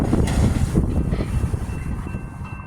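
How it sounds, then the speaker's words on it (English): A Norfolk Southern intermodal freight train rumbles past close by in the early morning, steady low heavy rolling noise with faint wheel clatter and some wind buffeting, fading slightly toward the end. "This is a daily intermodal train"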